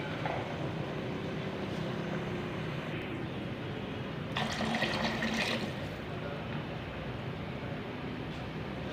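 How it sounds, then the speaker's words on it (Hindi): Two glasses of water poured into a pot of white lobia beans for cooking, a continuous rushing splash that swells briefly midway, heard alone and fairly close. "इसी के अंदर 2 गिलास पानी शामिल करेंगे लोबिया गलाने के लिए।"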